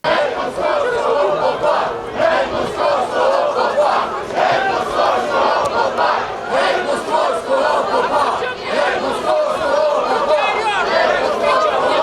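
A large crowd at a church in Ukraine's Ivano-Frankivsk region shouts and chants loudly and continuously, voices overlapping in a dense roar with no pauses.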